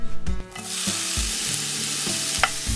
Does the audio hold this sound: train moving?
no